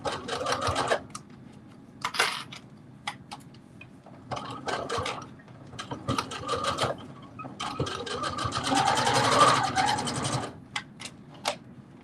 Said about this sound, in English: it's easy to sew in a straight line